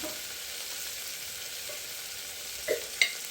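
Ginger garlic paste frying in a pan for a country chicken curry, giving a steady soft sizzle throughout with a couple of faint utensil clicks near the end.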